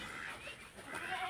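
Goats on a grassy farm bleating: a short, faint, wavering bleat heard briefly at a distance.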